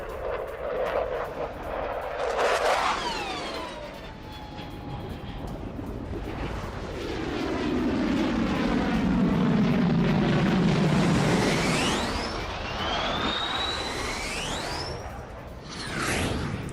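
Ukrainian MiG-29 fighter jets fly past, a long rising and falling roar that swells to a broad rumble midway, with a whoosh early on and shrill sweeping whines near the end, no voices.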